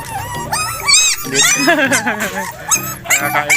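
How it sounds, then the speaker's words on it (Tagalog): Several dogs yip, whine and bark excitedly close by in overlapping bursts, with high whimpers mixed in. "pinakita ko lang ang aking mga alagang aso"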